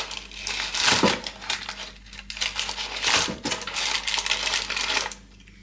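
Chicken pieces are turned over in an air fryer drawer with a paper liner, giving two sharp clattering bursts of metal and crinkling paper, close and loud, with lighter rustling between and no talk.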